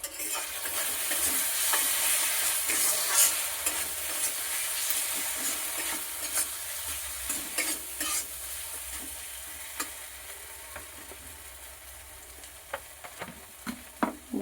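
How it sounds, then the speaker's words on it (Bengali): Salt, turmeric and chili powder sautéing in oil for a jackfruit curry, a steady close sizzle with scraping stirs that thin out toward the end into sparse clicks of the spoon against the pan. "এবার ভালো করে কষিয়ে নিতে হবে।"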